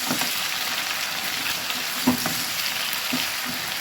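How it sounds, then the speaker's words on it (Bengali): Chicken pieces frying in a pan with onions, a close, steady sizzle broken by a few sharp stirring knocks and scrapes, no talking. "দেখুন মাংসটা প্রায় ভাজা হয়ে যাচ্ছে"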